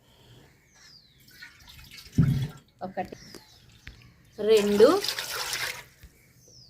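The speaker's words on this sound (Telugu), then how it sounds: "ఒక గిన్నె బొంబాయి రవ్వకి 3 గిన్నెలు నీళ్ళు అయితే వేసుకుందామండి" Water poured from a bowl into a cooking pot for kesari bath made with Bombay rava, a short splashing pour followed by a longer gushing pour, with someone talking between them.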